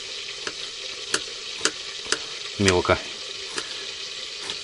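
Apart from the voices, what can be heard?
chicken leg frying in a pan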